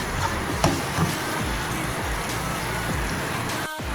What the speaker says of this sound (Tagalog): Ang ulan mga idol, kagabi pa ito mga idol.